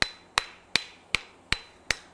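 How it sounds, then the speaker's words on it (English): Forging hammer strikes a metal leaf bowl down into a block, six sharp ringing blows at a steady, even rhythm, close and loud, each with a short metallic decay and no voices. "I want to hammer it straight down in the block"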